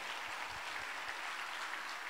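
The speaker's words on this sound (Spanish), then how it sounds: "Dele fuerte el aplauso al que se lo merece." A church congregation applauds loudly during a service, a dense, even wash of many hands clapping together, heard from some distance with no voices over it.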